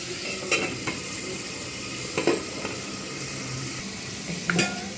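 Bitter gourd and potatoes fry in a pan with a soft steady sizzle, punctuated by a few scraping stirs and light clinks of a utensil against the pan.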